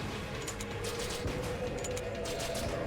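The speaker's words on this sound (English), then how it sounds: "I'm getting the explosions out of this by reloading" Rapid bursts of explosions in the Enter the Gungeon game, set off by reloading a gun, forming a dense, continuous crackle of blasts and gunfire at steady loud volume, with no voices on top.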